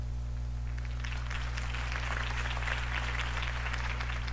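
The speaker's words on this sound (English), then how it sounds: "If only Mr. Wayne, my campaign's largest backer, could have heard that applause" Crowd applause follows a campaign speech in a Batman video game, a dense wash of clapping that swells after a second and holds steady over a low electrical hum.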